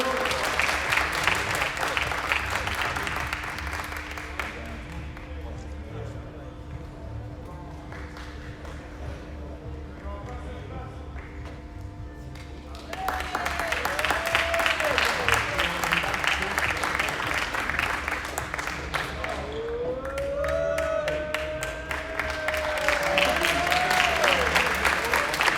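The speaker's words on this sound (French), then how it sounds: "On les applaudit bien fort" Steady, dense applause and crowd noise from an audience cheering the podium at the Eaubonne Challenger Cup tennis-ball tournament prize ceremony, part of the 2021 Tenball France circuit. The clapping swells louder partway through, with a few whistles and voices mixed in.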